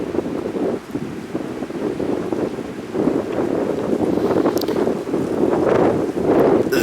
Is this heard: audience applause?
no